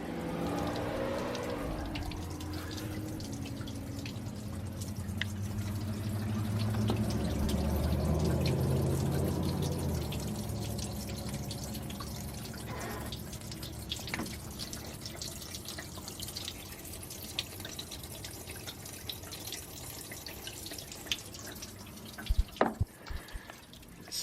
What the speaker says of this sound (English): it's actually draining out pretty quick